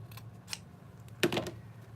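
Scissors snip through lemon wreath stems, giving a faint click near the start and then a sharper cluster of close cutting sounds about halfway through, over quiet room tone.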